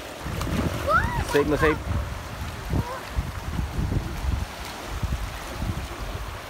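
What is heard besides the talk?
rushing, splashing river water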